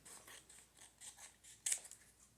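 Scissors snip the excess off a paper index card, a few soft, close cuts in quick succession followed by one sharper, louder snip near the end, alone in a quiet room.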